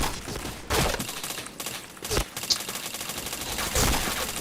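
Bursts of rapid gunfire from the player's weapon in a video game, dense and loud with short pauses between volleys, and a voice faintly under the shooting.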